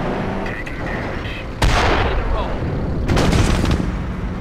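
Mortar shells landing in the strategy game Company of Heroes, two heavy booming impacts a second and a half apart over steady battle noise, with a voice talking throughout.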